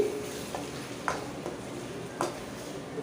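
Tomatoes cook in a pan, giving a faint, steady low sizzle with a few soft stirring clicks and taps.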